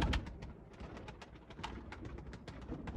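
Golden pigeons in a Sialkot loft, soft repeated cooing with rhythmic rising calls and wing or feather flutters, close but quiet, no talk.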